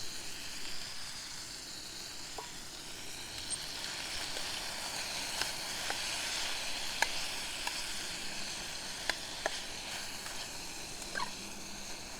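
Food in a pan sizzles steadily over a camp stove during lunch on a hiking trail in Moshannon State Forest, with occasional light clicks and scrapes as it is stirred.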